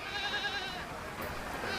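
A sheep bleats at a sheep farm. One sustained, wavering bleat runs through the whole short moment at moderate distance.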